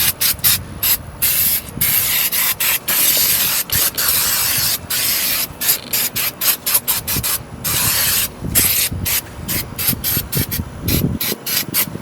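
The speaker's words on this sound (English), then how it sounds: "And just clean with some carburetor cleaner." Carburetor cleaner sprayed onto the EGR ports of a 2001 Ford F150 4.2L, loud close hissing bursts in rapid on-off pulses with brief gaps, mixed with some scrubbing and rubbing.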